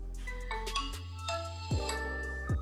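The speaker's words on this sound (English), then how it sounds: "here's a quick snippet from my first boot video" A Nokia 6 smartphone plays its first-boot startup chime, a short melodic ringtone-like sequence of bright sustained tones with deeper notes sliding in, clear and close with no talk.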